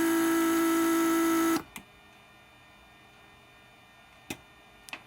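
A Mercedes S320 door lock vacuum pump runs with a steady, loud electric hum for about a second and a half, then cuts off, leaving near silence broken by a few faint clicks.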